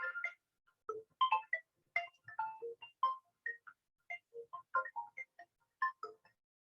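A mobile phone ringtone for an incoming call plays during a chemistry class, a bright melodic tune of short repeated notes in quick bursts, fairly clear and without talk over it.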